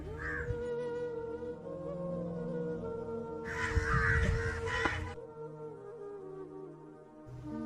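An ordinary crow caws near a house, a harsh burst of calling rising above a steady low background hum, then falling away.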